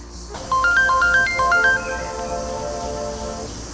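A mobile phone ringtone plays a bright, stepped electronic melody of short repeated notes, loud and close, then fades into a lingering tail with no voices over it.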